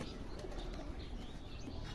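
Pigeons on a rooftop give soft, faint cooing calls against a quiet outdoor background.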